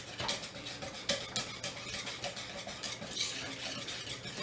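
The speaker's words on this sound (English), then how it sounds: "I'm just going to whisk all of this together" A whisk stirring lemonade Kool-Aid pie filling in a bowl, giving a steady, close, busy swishing with faint scraping clicks throughout, heard alone without talk.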